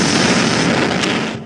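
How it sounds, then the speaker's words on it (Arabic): A roaring, sustained crash-like blast for a comic stage play's plane slamming into a tower, loud and dense throughout with no talk over it. "في طيارة خبطت في البرج"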